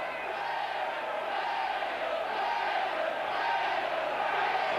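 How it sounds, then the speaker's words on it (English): A big Wigan crowd at a rugby league cup tie against Castleford roars continuously, a dense, sustained wall of cheering and shouting that swells slightly toward the end, heard from within the stadium. "Wigan crowd roaring the team on right behind them this afternoon in this cup tie."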